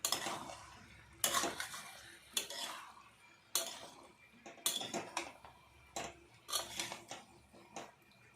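Chicken curry with potatoes and peas is mixed in a pot, with a spoon scraping and clinking against the metal in a run of sharp irregular knocks and stirs, close and fairly loud, with no talk.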